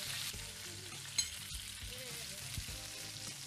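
Chicken pieces fry in hot, splattering oil, giving a steady close sizzle with a few sharp pops and spits and no talking over it.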